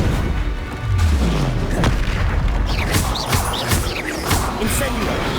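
Blasts from a Confringo spell in the Hogwarts Legacy video game, several deep booms and crashing impacts in quick succession amid combat effects, with a voice calling out spells.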